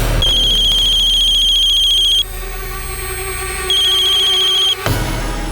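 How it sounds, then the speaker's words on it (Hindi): An electronic phone ringtone rings loud and close for an incoming call from an unknown number, with two long bursts of repeating tones separated by a short pause. "अननोन नंबर से फोन है सर।"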